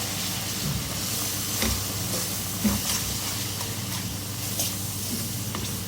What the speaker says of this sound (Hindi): मसालों को मैंने भून लिया है 1 से 2 मिनट।